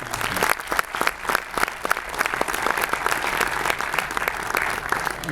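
A crowd at a live event applauds for Eryk, a sustained wash of many hands clapping with sharper individual claps standing out, no voices over it.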